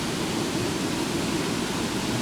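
Bish Bash Falls waterfall pouring over rocks, heard as a steady, dense rushing roar that holds constant and fairly loud throughout with no voices.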